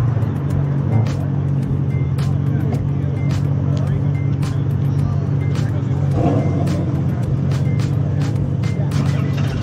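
A Ferrari supercar idles with a deep, steady engine drone at a Newport Beach car show in Orange County, loud and close, with sharp clicks and outdoor noise over the continuous rumble.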